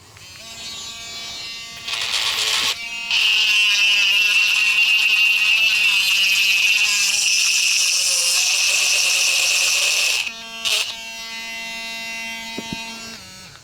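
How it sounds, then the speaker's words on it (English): A handheld rotary tool with a grinding bit whines steadily against a rock, spinning up and then grinding loudly at a high, buzzing pitch for about seven seconds. It cuts off sharply, followed by a short burst and lower idle whirring. "Basically, I have a rotary tool with a grinding bit on it."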